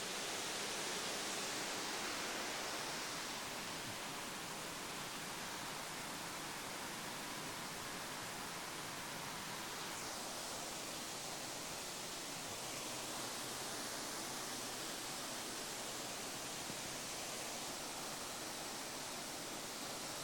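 A stream or waterfall at a secluded spot in Perak pours without a break, a loud, even rush of water that holds steady for about twenty seconds with no voices over it.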